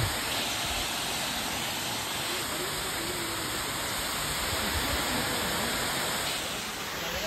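Waterfall at Bada Ghagara in Keonjhar, its cold water pouring in a steady, unbroken broadband rush that fills the whole span, close and constant with no break.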